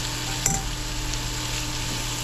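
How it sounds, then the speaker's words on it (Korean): Vegetables and potato strips stir-fry in oil in a wok over high heat, making a continuous even sizzle with a faint clink near the start, close and with no talk. "썰어둔 야채 들어갑니다. 한불에 볶다가 감자도 넣어줍니다."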